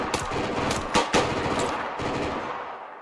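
Rapid bursts of automatic gunfire in a first-person shooter while dead-checking a downed enemy during trench clearance, with several loud, sharp volleys close by and brief pauses between them, no talk.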